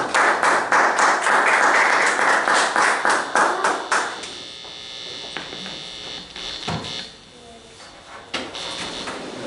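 A church congregation applauds at a Sunday service: dense, loud clapping for about four seconds, then it thins into scattered claps and fades toward quiet room noise with a few late taps.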